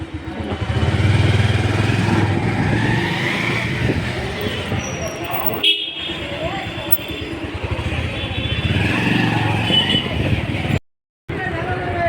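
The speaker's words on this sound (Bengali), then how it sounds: "এই যে আমরা গাড়ি নিয়ে বেরিয়ে পড়ছি এবার বাড়িতে" A car sets off with a steady engine rumble and road noise throughout, while people talk over it; the sound cuts out briefly near the end.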